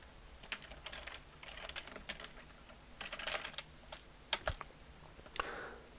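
Quiet keystrokes tap on a computer keyboard in short irregular bursts, with a few sharper clicks standing out against a faint room hum.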